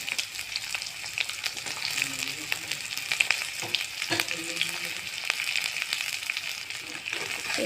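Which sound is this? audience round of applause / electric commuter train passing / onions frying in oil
onions frying in oil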